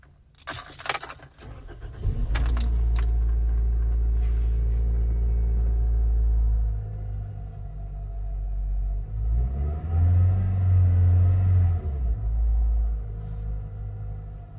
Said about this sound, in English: And here's the engine.